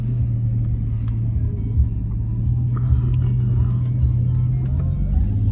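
A 2014 Porsche 911 S with its naturally aspirated engine rumbles steadily from inside the car on a drive, a low continuous drone with road noise and no speech.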